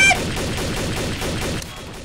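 Continuous dense gunfire in Garry's Mod Trouble in Terrorist Town, a steady loud rattle of overlapping shots lasting about two seconds and easing slightly near the end.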